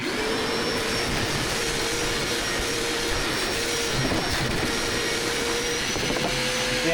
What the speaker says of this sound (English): I'll try and suck up what's there without jamming up the bloody vacuum cleaner with all the big bits.